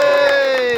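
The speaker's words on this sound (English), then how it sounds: "So, cheer that please." A rally crowd cheering in a single brief, loud burst of massed voices.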